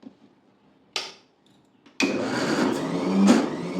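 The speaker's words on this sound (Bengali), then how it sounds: "মসুর ডালটা পিষে নিচ্ছি।" A mixer grinder grinding masoor dal starts up after a couple of short clicks and bursts, then runs as a loud, steady close whir.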